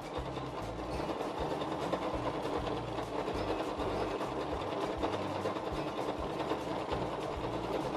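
A domestic sewing machine runs steadily during free-motion quilting, producing a continuous rapid mechanical stitching chatter at an even level throughout, close and without speech.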